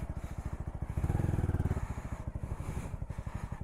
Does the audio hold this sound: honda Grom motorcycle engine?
yes